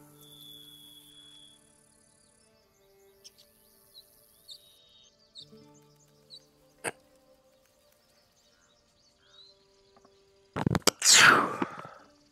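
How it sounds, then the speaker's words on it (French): A single loud, explosive sneeze bursts out near the end after a long stretch of near silence with faint scattered clicks. "désolé pour cet éternuement très très fort"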